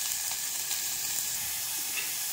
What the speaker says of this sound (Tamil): ரொம்ப வதக்க வேணாங்க, லைட்டாக ஒரு வதக்கு வதக்கலாம்.